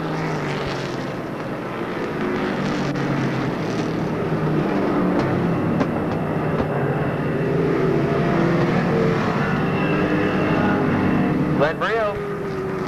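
Stock cars racing a heat at Monadnock Speedway during 1993 weekly racing: a loud, continuous engine roar fills the whole stretch while an announcer talks over it.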